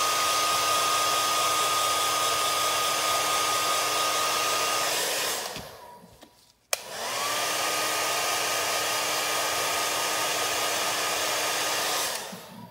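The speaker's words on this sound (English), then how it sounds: "I'm gonna hit it with a hairdryer." A hairdryer blows steadily and loudly over freshly painted Badger Ghost Tint coats on a model power weapon, cutting out briefly mid-way before roaring back on at the same even pitch.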